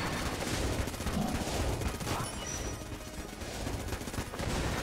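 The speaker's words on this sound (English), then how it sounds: "So we're gonna open with a double shot dueling laser." Rapid dueling laser gunfire from Enter the Gungeon, a dense, continuous barrage of overlapping shots that stays loud and steady throughout with no talking.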